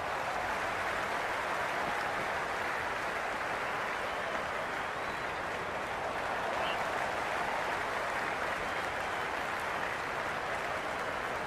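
A video game cricket crowd cheers and applauds during a Big Bash League match between the Sydney Sixers and Adelaide Strikers, making a steady, dense roar that holds evenly for the whole stretch without a break.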